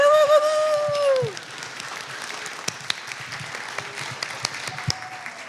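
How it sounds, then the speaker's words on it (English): An audience at a heritage month festival applauds students, with a sustained vocal whoop at the start, then scattered clapping and sharp individual claps that thin out toward the end. "Let's give it one more big round of applause for our incredible students here."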